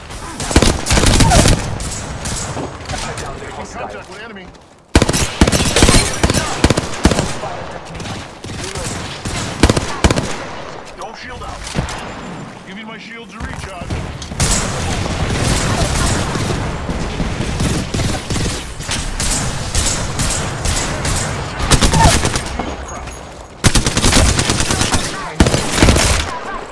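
Gunfire in the video game Apex Legends: loud, rapid automatic bursts and fusillades dominate, with short gaps between volleys, a few heavier impacts, and game voice lines over the shooting.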